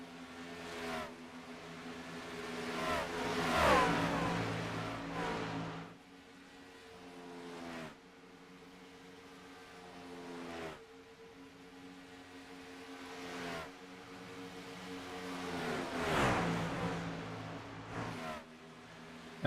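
Racing trucks circle Charlotte Motor Speedway, their engines roaring past in repeated surges that swell loudly and then fade as the pack goes by, with steady engine drone between passes.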